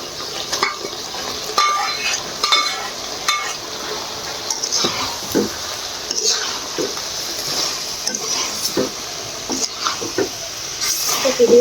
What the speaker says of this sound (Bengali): এবার ঢাকনাটা তুলে নাড়াচাড়া করে দেব